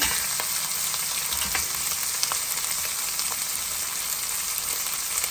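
Onion pieces frying in a pan give off a loud, steady, close sizzle with faint crackles throughout, and no voices.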